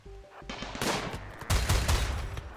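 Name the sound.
gunfire in the video game RimWorld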